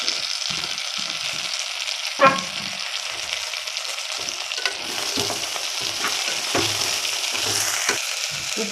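Ridge gourd frying with a spoon of cumin in a pan, a steady broad sizzle with occasional stirring scrapes and one sharp clink of a utensil against the pan.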